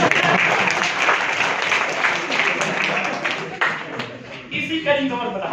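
An audience claps at a guest lecture at a university, a full, dense round of applause close by that thins toward the end as a voice breaks in.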